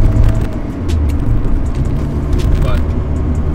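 A Honda Civic with a manual transmission drives along with a steady, low engine drone and road rumble throughout, while faint clicks and some speech sound over it.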